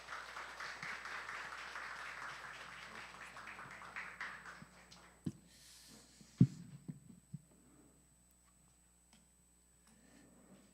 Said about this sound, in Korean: 우리 목사님 오실 때 환영의 박수 부탁드리겠습니다